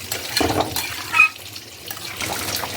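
Mutton curry poured into a pressure cooker, a brief splashing liquid pour with a short gurgle near the middle, close and fairly quiet, no talking.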